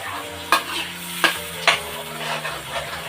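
Green chicken sizzles steadily in hot oil while a spoon stirs it, three distinct scraping strokes cutting through the continuous close frying hiss, with no one talking.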